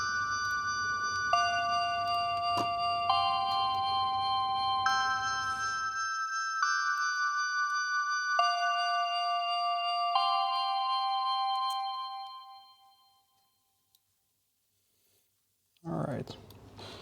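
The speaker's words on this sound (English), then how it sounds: "Some bells." Bright bell tones from a Sonic 2 music cover ring out in a stepped melodic line, clear sustained notes that shift pitch every couple of seconds, then fade into silence before a short burst of sound returns.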